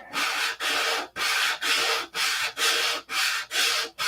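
Sandpaper worked by hand over wooden fillets in steady back-and-forth strokes, eight even scrubbing passes with short gaps between them, close and fairly loud with no voices.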